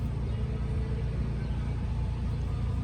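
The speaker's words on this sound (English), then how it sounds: "Seriously, now they want to cut grass when I'm recording." A lawn mower cuts grass nearby, its engine a steady, low droning rumble that holds constant and fairly loud, with no voices over it.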